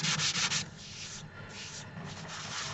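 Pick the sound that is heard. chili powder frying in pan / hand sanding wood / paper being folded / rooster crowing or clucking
hand sanding wood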